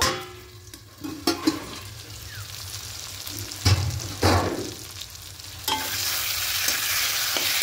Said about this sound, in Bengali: এবার ঢাকা দিয়ে দিয়ে মাংসটাকে কষতে থাকবো